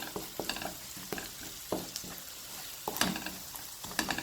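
Daal simmering in a pan over medium heat about ten minutes into cooking while being stirred, a soft steady sizzle with scraping spoon strokes against the pan at irregular intervals.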